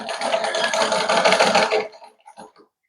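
A sewing machine stitches a folded seam on a blouse, a dense steady mechanical whir running for nearly two seconds before stopping, followed by a few faint short clicks.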